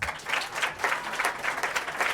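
Steady applause from an audience at a donation ceremony at a primary school in Grafton, Sierra Leone, with dense clapping that swells in repeated waves and continues throughout without speech.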